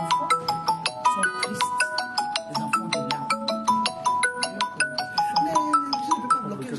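Phone ringtone for an incoming call, a bright repeating electronic melody of quick chiming notes in a steady rhythm, fairly loud and continuous with no voices over it.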